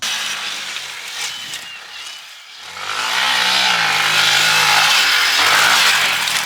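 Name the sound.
WR dirt bike engine revving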